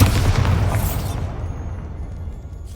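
A Bombarda spell explosion in Hogwarts Legacy: a loud, deep boom that hits at once and rolls away into a fading rumble over a couple of seconds, with nothing else over it.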